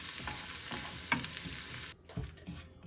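Garlic fries in a pan for palak paneer, giving a steady, loud sizzle with stirring scrapes that drops off sharply near the end and then returns in softer bursts.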